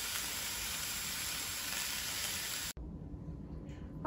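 Vegetables sautéing in a pan for Southern greens give a steady, close sizzle throughout, then a sudden cut to a quieter, softer frying hiss near the end.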